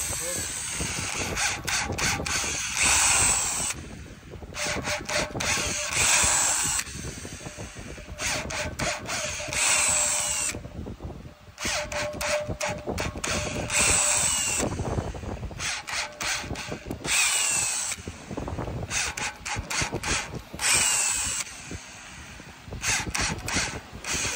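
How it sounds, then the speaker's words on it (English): A power drill whirs steadily through repeated bursts, making screw holes with a threaded drill bit while installing a steel buckle-type anvil cover, starting and stopping with short gaps, mixed with mechanical clicking and workshop clatter. "Making screw holes with a threaded drill bit."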